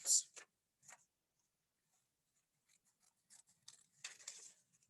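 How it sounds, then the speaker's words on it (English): Scissors snip out traced paper shapes in a few quiet, separate cuts, then a quicker run of small snips, close by in an otherwise silent room. "now that I've got those traced, I'm going to go ahead and cut them out."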